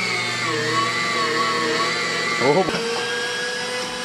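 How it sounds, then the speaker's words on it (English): A meat grinder runs with a steady motorized whine and hum while grinding meat for kielbasa, loud and continuous, with a brief short exclamation from a voice partway through. "I am going to be feeding these through one by one, and hopefully, yeah, just get a good grind on it"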